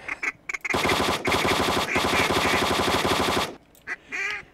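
Rapid full-auto gunfire during a bird hunt, long sustained bursts of dense shots with a couple of short stops, close and loud, ending in a few faint bird calls.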